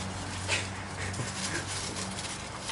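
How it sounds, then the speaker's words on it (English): A dog nearby whimpers and pants softly, with faint yips, in a room while a clutch for a Viper or SRT10 Ram is being unpacked; the sound is steady and fairly quiet, with no talk. "My dog will literally try to eat these things."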